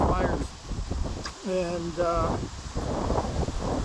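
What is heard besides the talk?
strong wind blowing outdoors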